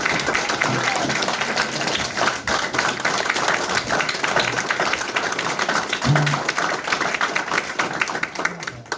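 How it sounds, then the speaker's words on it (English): A city council meeting chamber fills with a steady round of applause, dense overlapping claps sustained evenly for several seconds at moderate distance, with a few scattered voices underneath. "I ask that everyone please join me in a round of applause to honor"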